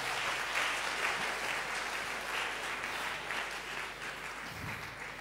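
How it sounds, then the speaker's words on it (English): A church congregation claps during a Church of Pentecost service, a steady, continuous wash of applause heard from a slight distance without interruption. "Oh, clap, clap,"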